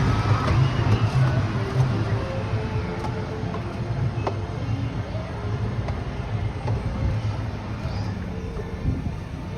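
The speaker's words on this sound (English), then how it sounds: "Classic train sounds." The Disneyland train rolls along, steel wheels on steel track giving a continuous rumbling clatter with faint clicks and squeals, steady and fairly loud throughout.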